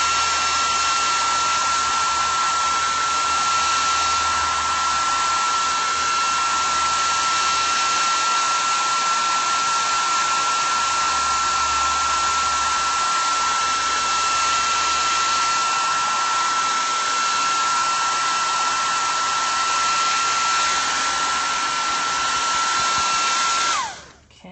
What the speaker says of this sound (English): Okay, I'm going to use my dryer.